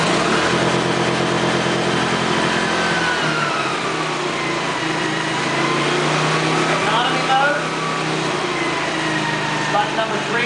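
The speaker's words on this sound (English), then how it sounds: "Start the generator, button number 1." A 2013 Boliy generator engine running steadily at close range, a continuous mid-pitched engine drone with a brief shift in tone around the middle, with talking over it.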